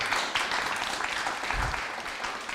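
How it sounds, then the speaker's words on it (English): Audience applause at a conference fills the room steadily throughout, a moderate wash of clapping with no break and no clear voices on top. "One applause, please."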